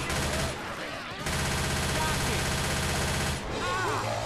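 Heavy gunfire fills a Left 4 Dead 2 match, a dense rapid rattle of shots running almost continuously at close range, with brief sharp effects breaking through near the start and end.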